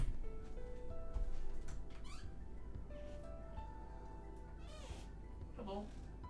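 A pet cat meows to be let out, several short rising calls at moderate distance, layered over steady game music and background sound.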